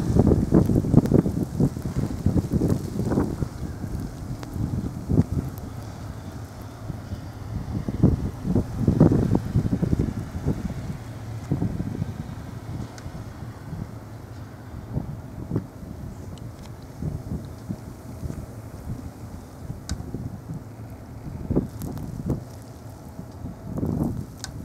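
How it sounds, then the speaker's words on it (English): Blizzard wind gusting outdoors in Alpena, Michigan, a steady roar buffeting the microphone with louder rumbling surges, close and loud, no one talking. "we got a little clipper slash blizzard running through the Picker Hood"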